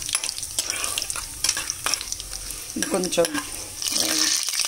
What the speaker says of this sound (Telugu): సో ఇది కొంచెం వేగింది, ఉల్లిపాయ వేసాను